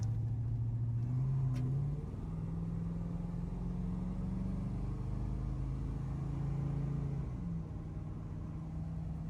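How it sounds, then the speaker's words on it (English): A 1963 Chevy C10 pickup truck engine hums steadily as it drives, a low rumbling drone that dips briefly as the driver shifts, with no talking. "This is the first time I've driven this truck."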